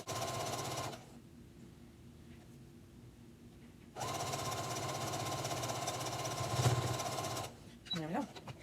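A sewing machine stitching a blouse hem runs in steady mechanical hums, stopping briefly and then starting up again for a longer run before it halts. The whir sounds close and moderately loud.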